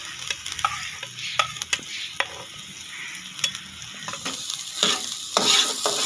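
Chopped onion sizzles in ghee with a steady frying hiss, punctuated by sharp scrapes and clinks of a spoon stirring the pan at irregular intervals.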